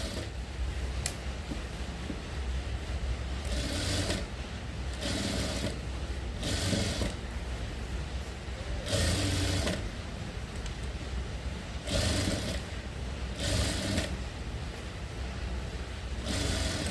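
A sewing machine stitches piping on a sleeveless blouse in repeated bursts of rapid mechanical whirring, separated by quieter pauses, close and alone without talk.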